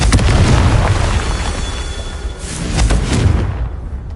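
Confringo blasting-spell explosions in Hogwarts Legacy boom out in heavy, rumbling bursts, one after another with brief gaps, loud and close.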